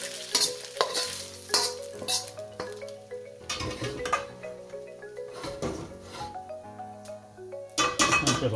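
Beef and broccoli ingredients stir-fry in a wok, with bursts of sizzling, repeated metal clinks and scrapes of a spatula in a quick, uneven rhythm.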